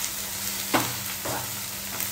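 Masala for chicken handi being stirred in a pan, with a low steady sizzle and two soft scraping strokes of the spoon, close and quiet, no voices.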